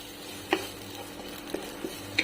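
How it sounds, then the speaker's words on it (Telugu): Ginger garlic paste fries in a pan with a steady low sizzle, broken by a few sharp scraping stirs of a spoon against the pan, one near the start and a couple toward the end. "ఈ అల్లం వెల్లుల్లిపాయ పేస్ట్ పచ్చివాసన పోయేంత వరకు ఫ్రై చేసుకుంటే సరిపోతుంది"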